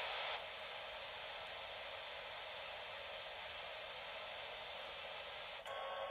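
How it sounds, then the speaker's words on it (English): Steady white noise plays from a Lollipop smart baby monitor, a constant even hiss at moderate loudness that runs unbroken, with a faint click near the end. "There's white noise."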